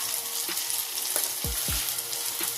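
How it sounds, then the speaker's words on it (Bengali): Tomato frying in a pan with salt, turmeric, chili powder, cumin and coriander for a crab curry base. There is a steady close sizzle with a few soft stirring scrapes. "দিয়ে আবারও সবগুলো ভালো করে মশলাটা কষে নেব।"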